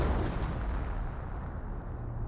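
Artillery barrage in the World War II strategy game Company of Heroes, a continuous low heavy rumble of shelling and blasts, dense and sustained with no talk over it.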